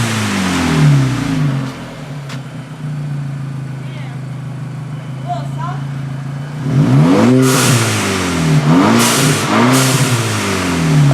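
A VW MKV GTI with its 2.0T engine and AWE cat-back exhaust idles steadily, then is blipped through several sharp revs in quick succession, loud and close.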